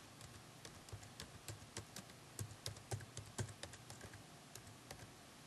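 Quiet typing on a computer keyboard during a software tutorial, a light irregular patter of key taps at close range with no talk over it.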